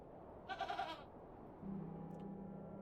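A goat from the video game The Excavation of Hob's Barrow gives a short, quavering bleat, quiet and close, followed by a low steady hum of game ambience.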